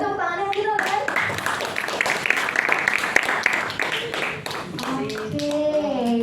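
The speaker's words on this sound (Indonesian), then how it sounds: "Boleh tepuk tangannya mungkin teman-teman?" A crowd breaks into steady applause, dense clapping filling the room, with voices talking over it near the start and end.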